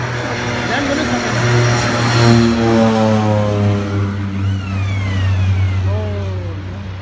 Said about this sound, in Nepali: यो सोलुखुङ्गुको फाप्लु विमानस्थल भर्खरै ल्यान्ड गर्न खोजेको प्लेन कुकुरको कारणले गर्दाखेरि ल्यान्ड हुन सकेन